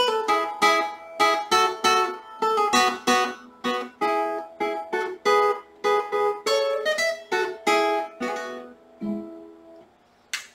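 A classical guitar plays a melodic theme alone, with clear plucked notes and chords in a steady, unhurried rhythm, recorded up close.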